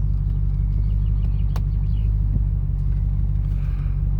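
A 1994 Aegean Blue Range Rover creeps uphill off the throttle, giving a steady, close low engine rumble with faint road noise and a couple of light clicks, no voices.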